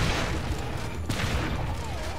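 Shield guns fire in the video game Orcs Must Die 2, a faint, low rattling fusillade of shots running steadily under a busy game mix.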